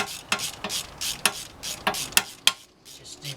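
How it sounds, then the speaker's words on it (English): A short 3/8 ratchet tightens rear wheel bearing bolts on a BMW 318i E46, giving close, quick bursts of mechanical clicking in irregular strokes with brief pauses between. "Just a short 3/8 ratchet, gets in there quite nicely"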